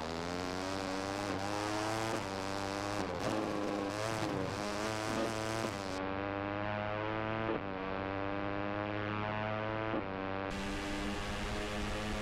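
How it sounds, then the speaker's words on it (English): A racing motorcycle engine in MotoGP 14 on PlayStation 4, with a thin, buzzy moped-like whine that holds steady, rises and falls in pitch with throttle changes, loud and continuous without talk. "This thing sounds like a moped."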